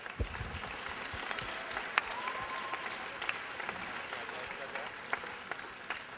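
High school fine arts assembly audience clapping for student designers, a scattered, moderately distant round of applause with a few sharper individual claps standing out and faint voices beneath.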